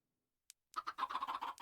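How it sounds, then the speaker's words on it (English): Chickens in a PC video game cluck in a quick, steady run of short, close calls after a brief click and a moment of silence. "Look at all those chickens."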